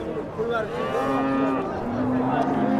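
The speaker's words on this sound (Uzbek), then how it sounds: "Mana shu yerda bitta sigir turibdi, juda katta." A large cow at a livestock market lets out a long, loud, drawn-out moo close by, its low voice wavering in pitch across the whole stretch.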